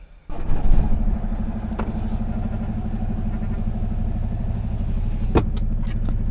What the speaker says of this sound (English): All right, let's crank the truck.